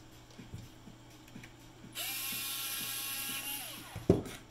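A Dremel electric screwdriver spins out screws from the case of a Gas Clip Technologies MGC-IR gas sensor, a steady whirring motor hum with faint clicking, ending in a sharp ratcheting clack near the end.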